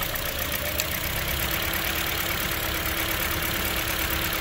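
A car engine idles while misfiring during a cylinder-by-cylinder check, a close, steady, rough mid-pitched hum with a faint uneven pulse and no speech over it.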